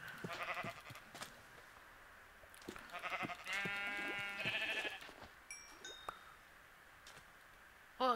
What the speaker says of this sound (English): That was a damn sheep.